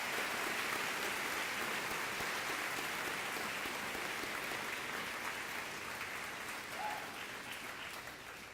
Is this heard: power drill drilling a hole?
no